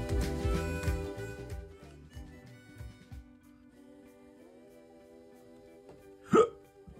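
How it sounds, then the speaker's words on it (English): A single loud, sharp hiccup bursts out near the end, close to the mic, after a stretch of quieter background sound during a makeup session. "Now I've got the hiccups."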